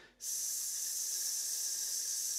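Voices imitate a kettle on its way to boiling with a long, steady, gentle hiss that starts abruptly and holds unbroken to the end, sustained and airy without any talk over it.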